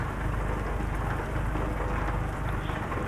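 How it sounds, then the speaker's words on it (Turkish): Steady, dense rain pours in Euro Truck Simulator 2, a constant loud hiss of drops on a Scania R380 8x2 truck, with no pauses. "Yağmur kendiliğinden başladı zaten."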